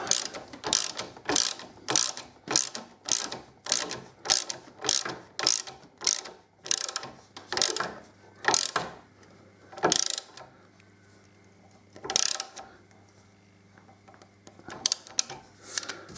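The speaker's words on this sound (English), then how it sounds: "get my ratchet. And just nip that up." A hand ratchet clicks in quick repeated bursts while tightening a bolt on a Suzuki DL1000 V-Strom motorcycle, close and crisp, with short pauses between strokes and a few spaced final clicks.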